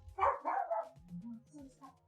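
A dog barks in a short, close burst of yips and woofs, followed by lower whimpering sounds with a voice faintly present alongside.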